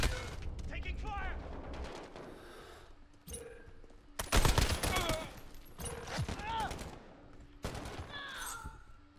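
Bursts of rapid automatic gunfire and single shots from a first-person shooter video game with a 5.56 weapon, loud and repeated, mixed with game voice callouts and player chatter.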